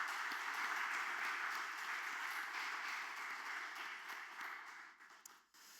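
Church congregation applauding at a Wednesday evening service, a steady broad wash of many hands clapping at moderate volume throughout, tapering off near the end.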